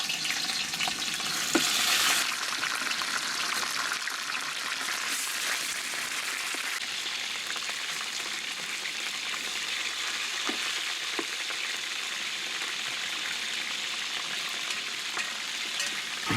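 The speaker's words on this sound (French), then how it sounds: "Une fois que l'huile a bouilli, là on prend les morceaux de volaille" Chicken pieces frying in boiling oil for a Réunion-style chicken curry, a dense, steady crackling sizzle that holds throughout with a few brief louder pops near the start.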